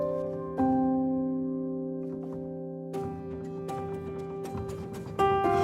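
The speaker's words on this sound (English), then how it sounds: "What you hear right now is played with just one instance of NOIRE Pure." Native Instruments NOIRE Pure virtual piano plays sustained chords with fresh strikes and layered rhythmic notes, clear and alone.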